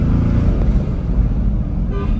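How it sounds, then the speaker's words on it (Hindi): A twin-turbo Toyota Land Cruiser engine revving in Gilgit, giving a loud, close, dense roar with turbo whoosh that stays steady throughout. "टर्बो का साउंड बड़ा अच्छा है इंजन का साउंड बड़ा अच्छा है"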